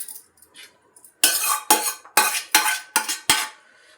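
Curry is mixed into cooked rice in a pot for biryani. After a few faint clinks, six loud, evenly spaced scraping scoops of a metal spoon against the pot follow in a steady rhythm.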